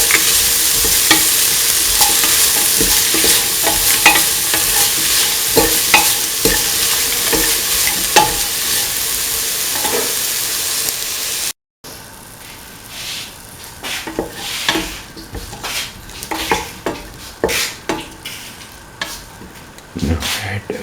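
Vegetables for a winter melon and ivy gourd stew are stirred in a sizzling pan, a steady hiss with repeated scraping strokes of the spoon, then a drier stretch of uneven scraping and clatter after a brief cut.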